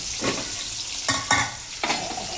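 Sliced bitter gourd (uchhe) fries in hot oil in a pan with a continuous close sizzle, broken by three or four scraping stirs of the spatula. No one speaks.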